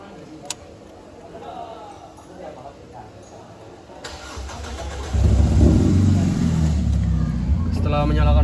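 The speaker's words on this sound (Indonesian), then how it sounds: "Selanjutnya kita akan menyalakan mobil." A car engine cranks and catches during routine servicing, then settles into a loud, steady running rumble that grows slightly in the final seconds, close by, after a quieter stretch with a voice speaking.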